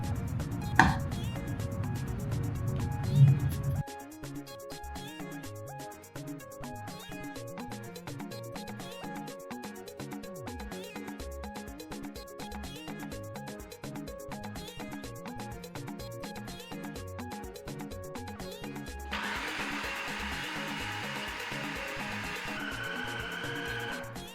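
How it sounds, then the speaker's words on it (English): A food processor pounds boiled yam into Nigerian pounded yam, opening with a loud low rumble that gives way to a steady run of rhythmic thumps and knocks lasting about twenty seconds. "I'll take it to the food processor."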